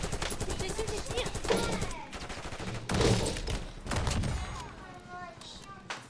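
Rapid bursts of automatic gunfire ring out in a shooter video game, loud and repeated, mixed with game sound effects and brief in-game voice lines.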